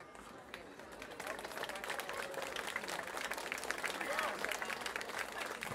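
Sustained applause from a large audience, steady clapping that swells slightly and continues throughout, with some crowd noise mixed in, at a brass band's 50th-anniversary jubilee concert in Chełm, Poland.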